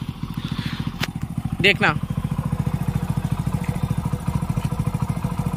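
A Hero Passion Pro motorcycle with over 100,000 km idles close by, its engine pulsing in a steady, rapid, vibrating rhythm throughout, with someone talking over it briefly.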